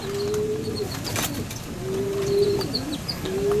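Pigeons cooing inside a loft, several soft repeated coos close by with occasional faint chirps and brief wing flutters.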